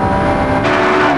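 A Ferrari 360 Modena with a 400-horsepower engine howls at high revs on a racing circuit, a loud steady close engine note that surges briefly, with no talking.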